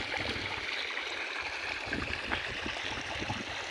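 Irrigation water runs steadily into a sugarcane and maize field, a continuous close gurgling, trickling flow with no voices.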